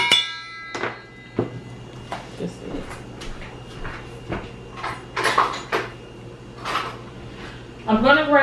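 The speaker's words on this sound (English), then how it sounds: "I'm gonna grab a fork, and I'm also gonna grab a spatula spoon." Kitchen utensils, a fork and a spatula spoon, are pulled from a drawer, giving a series of sharp clacks, knocks and metallic rattles, close and irregular, with a voice murmuring between them.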